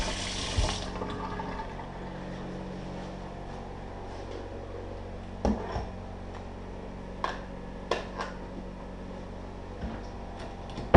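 Warm water runs steadily from a tap at a Richardson, Texas house, a continuous close wash with a few faint clicks and knocks scattered over it.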